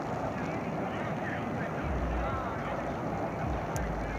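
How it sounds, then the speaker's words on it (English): Loud, steady roar of an F-18 Growler jet climbing on full afterburner, a broad rumbling wash that fills the whole span with no break, heard from the ground. "But now he's giving it full afterburner and climbing."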